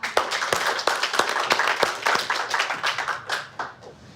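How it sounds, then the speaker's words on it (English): A small group claps hands together in a classroom, sharp uneven claps in a loose, brief burst that thins out toward the end. "Give yourselves applause."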